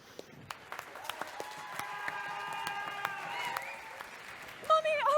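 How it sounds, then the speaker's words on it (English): Audience applause during a live theatre performance of Peter and the Starcatcher, a soft steady patter of clapping with a held musical tone beneath it, followed by a brief spoken voice at the end. "Clap if you believe."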